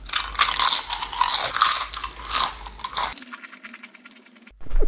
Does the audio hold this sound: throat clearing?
no